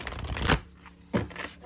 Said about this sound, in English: I want to shuffle the deck and pull another one.